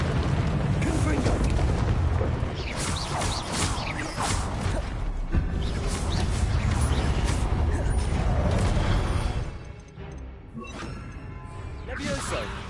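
Confringo fire-blast spell explosions crashing in a duel in Hogwarts Legacy, loud booming bursts and whooshes over dense battle noise, easing off near the end, with voices underneath.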